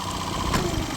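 A Mercury 9.9 four-stroke outboard motor, freshly cleaned carburetor, idles smoothly and steadily at close range, an even low running hum with no voices.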